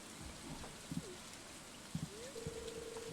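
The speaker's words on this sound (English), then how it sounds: "yes, it's raining. But let's make it green rain." Steady rain hiss in Stardew Valley's summer weather, a soft even wash with a few faint blips and a rising tone drifting over it, no talking.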